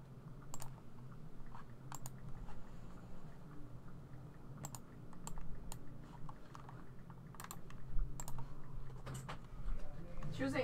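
Typing on a keyboard to send a text message, a run of quick light clicks and taps scattered through the clip, fairly close, sitting under a steady low background hum.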